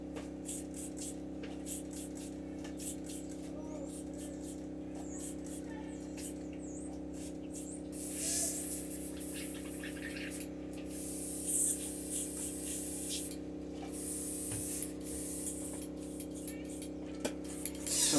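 An airbrush being cleaned out sprays in several bursts of hiss, the strongest in the middle and near the end, over a steady low hum.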